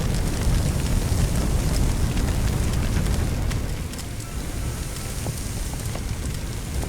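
Water sprayed onto a fire in the firefighting game Firefighting Simulator: The Squad, a loud, steady hiss and rush that continues unbroken throughout, dipping slightly partway through.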